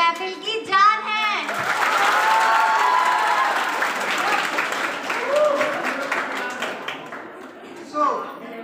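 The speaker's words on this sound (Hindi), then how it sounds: "तालियों के साथ स्वागत करें इनका" Audience applause welcoming guests at a university commerce department freshers party, a sustained wash of clapping and crowd cheering that follows a short spoken introduction and fades as talk resumes at the end.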